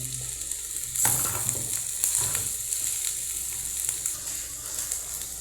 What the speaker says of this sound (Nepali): अब यसमा टमाटर हाल्छौँ टमाटर यता हालिसकेपछि त्यहाँबाट रेडी हुन्छ